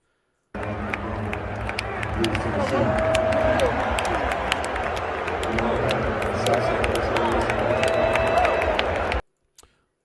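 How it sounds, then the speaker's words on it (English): A football crowd at a stadium in South Carolina boos Tennessee player Kamal Hadden, a steady, broad roar of many voices with scattered claps and shouts that holds for about nine seconds, then cuts off. "This fan base booing Kamal Hadden."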